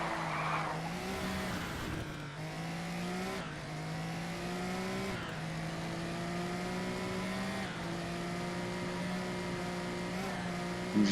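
A race car in the GRID video game slides and squeals its tyres in a near spin-out, the engine droning loudly throughout with repeated sweeping revs and tyre screeches.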